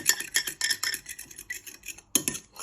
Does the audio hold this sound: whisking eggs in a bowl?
yes